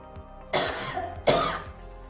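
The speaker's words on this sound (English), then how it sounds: "Then have 2 to 3 short while forceful coughs" Two short, forceful coughs about three-quarters of a second apart, each a loud, breathy burst that tails off, heard close up against a quiet background.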